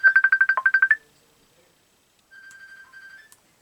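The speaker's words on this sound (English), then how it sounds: "That's my computer ringing." A computer sounds an incoming-call ringtone from another room: a rapid run of about a dozen bright electronic pulses, a pause of over a second, then a softer steady tone with faint beeps.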